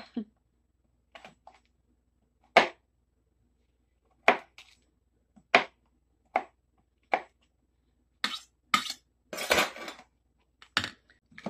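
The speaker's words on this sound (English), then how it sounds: "you're going to cut your garlic, or you can crush it. I'm just going to chop it up." A knife chops garlic on a board in a quiet kitchen, giving sparse, sharp single knocks spaced a second or two apart, with a quick cluster of taps near the end.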